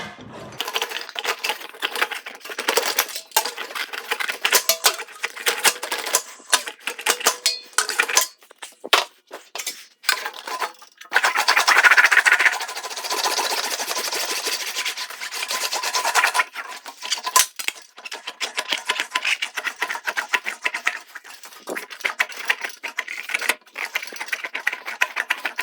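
An English wheel rolls back and forth over a sheet metal panel for a 1951 Ford front end, giving a steady rasping, scraping rhythm of repeated passes, close and fairly loud, with brief pauses.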